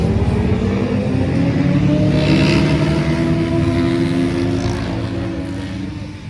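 A drift car at Pat's Acres racetrack revs loudly and continuously up close, its engine droning and rising in pitch over several seconds without any talk.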